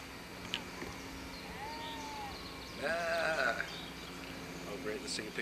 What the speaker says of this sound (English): Oh great, let's take a picture of some sheep.